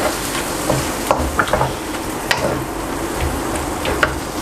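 Prawn pad thai with pad thai sauce is stirred and tossed in a hot pan, a loud continuous sizzle broken by repeated clicks and scrapes of the spatula, no voices.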